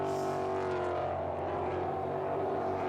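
Ford Mustang race cars at Virginia International Raceway, a sustained engine roar heard from a distance, fairly faint and steady with a slight change in pitch as the cars pass, no voices.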